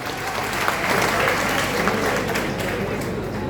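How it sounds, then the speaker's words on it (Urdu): Sustained, loud audience applause at an All India mushaira in Deoband, dense clapping from a large crowd filling the space evenly from start to finish. "میں چاہتا ہوں کہ ایک بار ان کے لیے پرزور تالیاں آپ بجائیں"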